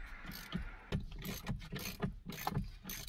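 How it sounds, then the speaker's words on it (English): A ratchet breaks a bolt loose on a 2006 Dodge Ram Cummins during a clock spring replacement, giving a faint run of rhythmic clicking pawl strokes about every half second, close and quiet. "break this bolt loose"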